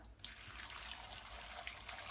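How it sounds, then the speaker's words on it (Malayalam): Hot water is poured steadily into a bowl of idli batter ingredients, a soft continuous splashing stream heard close and alone for a couple of seconds. "ഇനി നമുക്കതിലോട്ട് ആവശ്യത്തിന് വെള്ളം ഒഴിച്ചു കൊടുക്കാം"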